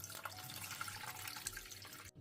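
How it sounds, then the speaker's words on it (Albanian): Water pours steadily into a pot of beef pieces being cooked, a faint continuous splashing trickle that cuts off abruptly at the end. "Vazhdojmë tani që ta shtojmë ujin."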